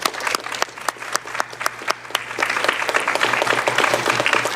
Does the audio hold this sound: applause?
yes